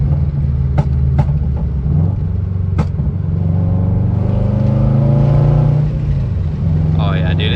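An LS1-swapped Hyundai Genesis with a manual gearbox revs and pulls while driving, a loud, close engine note that climbs and holds through the gears, with a few sharp clicks early on and a voice speaking over it.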